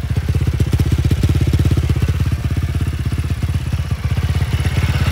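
A Magpower R-Stunt motorcycle fitted with a 160 YX two-valve engine and a 28 mm carburettor runs close by, a loud rapid thumping idle with steady rhythmic pulses throughout.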